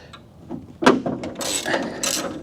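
A 10 mm socket wrench loosening the window clip bolts on a conversion van, rapid clicking ratchet bursts up close, a few short cranks in a row.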